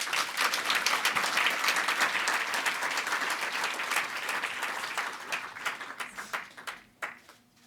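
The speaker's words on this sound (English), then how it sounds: "Please give Erin a round of applause." Audience applause for Erin at a CGI 2016 annual meeting panel discussion: a large crowd claps steadily and densely, then the clapping thins and fades out over the last second or two.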